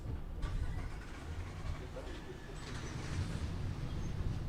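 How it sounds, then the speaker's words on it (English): Several cars start their engines at an outdoor commencement ceremony, a broad continuous engine rumble filling the scene with faint birdsong above it. "Yes, you may start your cars."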